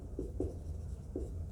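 A pen writes out chemistry half-reactions, producing a few soft, close scratchy strokes in short bursts against a quiet room, with no talking.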